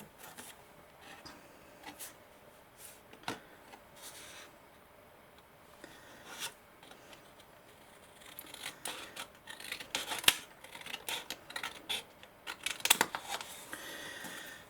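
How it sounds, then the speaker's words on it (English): Scissors trim the side tabs off patterned paper pieces for a square gift bag, giving repeated small snips and rustling paper. The cutting is close and gets busier toward the end. "I'll just cut all the side tabs off."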